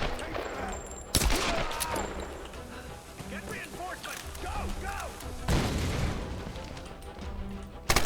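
Gunfire crackles in a Tomb Raider firefight, with sharp loud shots near the start and middle and scattered bursts between, while someone talks over the action throughout.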